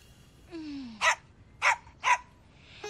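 A cartoon dog named Tiger gives three sharp barks in quick succession, preceded by a short whine, with a faint musical tone underneath.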